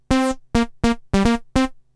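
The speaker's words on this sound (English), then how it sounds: "I've set it up to create a slightly detuned supersaw sound" A Yamaha Reface DX FM synth is set to a slightly detuned supersaw patch and plays six short, bright, buzzy stabs in a quick uneven rhythm, each cut off crisply, with no talking.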